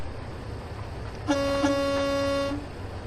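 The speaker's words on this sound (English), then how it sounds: "Oh, that horn is so disappointing compared to the train horn." A Freightliner Cascadia truck horn in American Truck Simulator sounds one steady, loud tonal blast lasting just over a second, with quiet background before and after.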